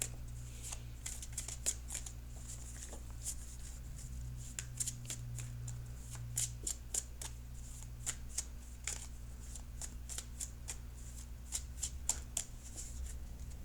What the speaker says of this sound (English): So I'm going to shuffle for your outcome card.